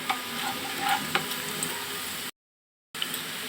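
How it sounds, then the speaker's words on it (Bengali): Bay leaf, dried chilli and whole spices sizzle in oil in a pot for rice khichuri, a steady close frying hiss with light scraping, broken by a short silent gap before resuming. "দিয়ে দিব তেজপাতা দিয়ে ভালোভাবে ভেজে নিব"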